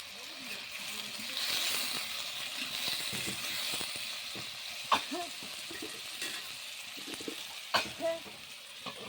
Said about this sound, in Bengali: এঁচোড়ের সঙ্গে যে আলুটা আমি সেটা এখন একটু ভেজে নিচ্ছি